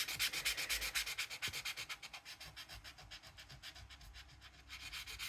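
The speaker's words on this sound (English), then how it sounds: "that one went too deep with the sandpaper" Sandpaper rubbed by hand over an embossed paper surface in a mixed-media craft project, a close, steady run of rhythmic scratchy back-and-forth strokes.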